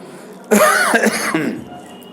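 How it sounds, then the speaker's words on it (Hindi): A man coughs in two harsh bursts, close and loud, with a throaty rasp trailing off. "हम बीमार नहीं पड़ेंगे लेकिन खांसी हम ही को आ जाती है"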